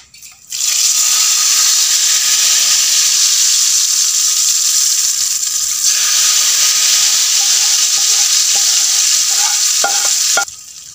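Hot oil tempering with cumin and fenugreek seeds is poured into kadhi and sets off a loud, continuous sizzling hiss up close. The sound holds steady for about ten seconds before it cuts off, leaving a few faint clinks.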